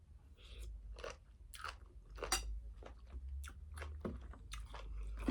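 Close, crisp chewing and crunching of Korat-style khanom jeen rice noodles with curry and fresh vegetables, steady repeated bites with soft squishy mouth sounds, alone with no talk.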